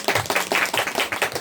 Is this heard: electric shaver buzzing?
no